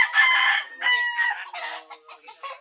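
Chickens cluck busily in close succession while a rooster lets out loud crowing calls, the outdoor farmyard birds dominating with no speech.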